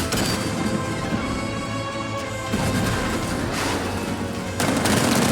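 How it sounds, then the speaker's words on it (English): Tank cannon and heavy gunfire in Batman: Arkham Knight, a dense barrage of loud rapid bursts and booming impacts with sharp swells near the middle and end, no speech over it. "60mm cannon operational"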